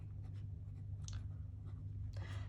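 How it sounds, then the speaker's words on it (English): A pen scratching totals onto paper, faint short bursts of scribbling over a low steady background hum. "write my totals here"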